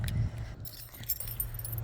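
Car keys jangle close by as a car is switched off outdoors on a cold day, a brief metallic rattle over a low, steady rumble.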